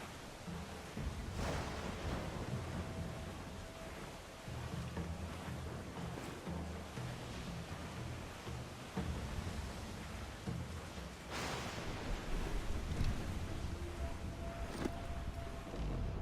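Stormy open sea in Assassin's Creed IV Black Flag, with a steady loud roar of wind and crashing waves around a sailing ship, plus a couple of sharper bursts like thunder or cannon fire, continuous throughout.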